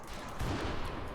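Gunfire in the video game Rimworld, a brief rattle of overlapping shots at moderate distance, dense and continuous across the short span.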